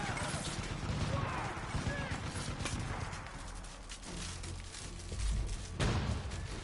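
Far Cry 5 gameplay with a grenade launcher firing, dense booming blasts and crashing explosions rolling one after another, loud and continuous over game noise, no talk.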